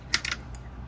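Small plastic Lego Nexo Knights pieces snapping together during building of the Stone Colossus set, a few quick close clicks in a short burst, crisp and light against a quiet room.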